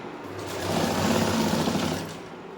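A sewing machine stitches frock fabric in one continuous whirring run, rising and then easing off, close and alone with no talking.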